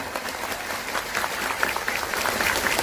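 An audience applauds Gus Kiai Haji Akhfaz Faisal Hamid Baidawi at a religious gathering in Taiwan, a brief, even wash of clapping from many hands that holds steady throughout.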